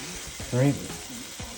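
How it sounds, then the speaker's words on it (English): Ground turkey meat sizzles steadily in a pan while a mostaccioli sauce is being made, a constant frying hiss with a short spoken word over it. "put 3 pounds of turkey meat in there"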